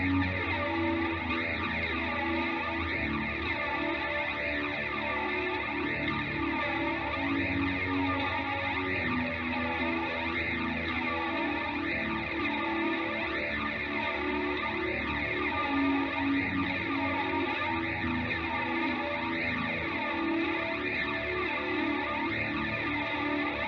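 A shoegaze-style music sample for a trap beat, with dense layers of washed-out, distorted tones smeared in chorus, echo and reverb, playing continuously at steady loudness with no voices.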